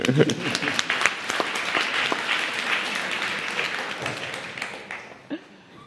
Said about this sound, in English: we should give them an applause, the brave man who came here